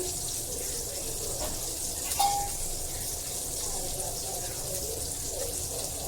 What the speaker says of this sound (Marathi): तर मी थोडंसं पाणी ॲड करते